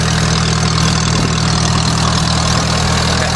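A Kohler emergency light plant's engine runs steadily up close, a loud, constant mid-to-low idling drone with a regular throb and no speech.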